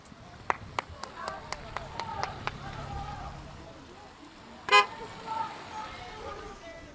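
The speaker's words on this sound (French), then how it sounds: "Voilà, des coups de klaxon, vous l'avez entendu" Car horns toot outdoors at a toll bridge protest to the Île de Ré, with a quick series of short horn blasts early, then a louder single honk later, over distant traffic noise.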